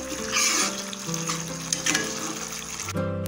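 Onion and tomato bhuna masala gravy frying in oil while being stirred, a steady close sizzle that runs throughout over a soft tonal background.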